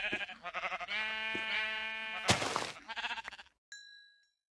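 Sheep in Minecraft bleat in a string of several close, wavering calls, followed by a short rustle and a bright chime at the end.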